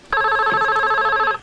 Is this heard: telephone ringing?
yes